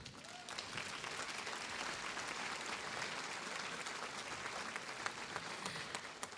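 An audience at a 2018 UNH Law commencement ceremony breaks into sustained applause, a dense, even wash of many hands clapping throughout, steady and moderately loud with no voices standing out.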